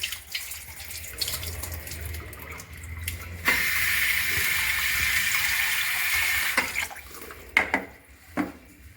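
Rice and vegetables rinsed under running tap water: soft splashing and handling, then a steady gushing stream for a few seconds, followed by scattered splashes and clinks, at moderate volume.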